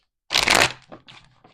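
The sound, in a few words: shuffling tarot card deck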